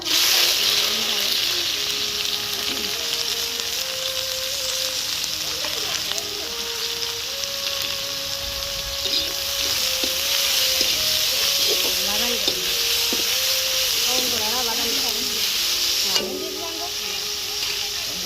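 Mustard seeds and fenugreek sizzle steadily in a hot pan for a Jaffna-style crab curry, a loud, even frying hiss that runs throughout while a person talks over it.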